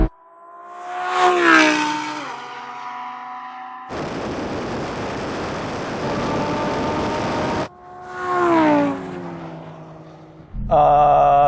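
A Lamborghini Sterrato and a Porsche 911 Dakar accelerate hard side by side in a drag race, engines climbing through the gears loud and close, with heavy wind buffeting between runs and another roaring surge at the end.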